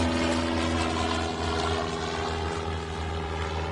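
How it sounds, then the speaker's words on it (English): An airplane in a video game drones past as a loud, continuous engine roar with a steady hum, holding nearly constant level and gently shifting throughout, with no talking. "That plane sounds so real."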